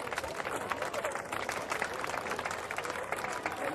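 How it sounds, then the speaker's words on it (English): A crowd at a strongman competition claps steadily, dense continuous applause filling the whole stretch at moderate distance, with a commentator's voice faintly mixed in. "And the crowd's clapping now"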